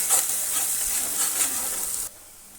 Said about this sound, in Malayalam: സവോള ഒന്ന് റോസ്റ്റ് ചെയ്തെടുക്കാം.